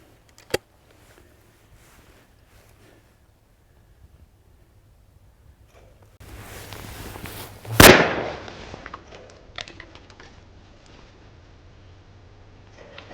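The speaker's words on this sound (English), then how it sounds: "I'm going to shoot whatever comes at me." A single loud shotgun blast at a driven pheasant shoot, a sharp close report followed by a decaying echo, set against a faint outdoor background with a low steady hum.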